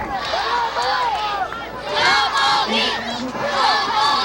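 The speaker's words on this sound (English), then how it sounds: "We have people here cheering for Joe Pogi." A crowd at a Pinoy amateur wrestling match cheers and yells loudly, with overlapping shouts and whoops rising and falling in waves throughout.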